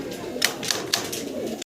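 At a large pigeon farm holding about 1,200 birds, soft cooing murmurs continuously, broken by three short sharp bursts of rustling or fluttering.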